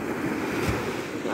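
Rough sea surf washing steadily onto a beach, a continuous dense roar of breaking waves mixed with wind buffeting the microphone.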